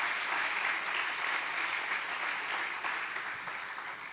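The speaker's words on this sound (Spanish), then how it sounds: "¿Qué tal si le da un buen aplauso a mi Jesús?" A church congregation applauds during a Spanish-language sermon, steady dense clapping heard at a moderate distance that continues evenly for about four seconds with only a slight fade.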